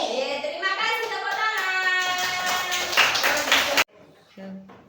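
Children in a primary school classroom clap their hands in unison during a class song, a rhythmic patter mixed with young voices and a teacher, ending abruptly before a quieter moment with a voice.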